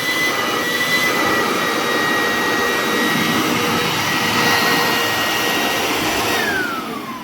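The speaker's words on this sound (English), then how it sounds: "now it's going to suck in air from here and blow it towards this dust bag" Makute 2-in-1 blower/vacuum running in vacuum mode, a loud steady high-pitched whine and rushing air close up, with the motor winding down at the end and no talking.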